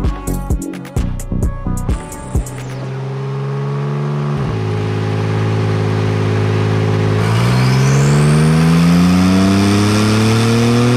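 Porsche 992 Turbo S twin-turbo engine running on a dyno during a tune, a few sharp blips first and then a long sustained pull whose pitch steps up and climbs steadily, loud and close with no talk over it.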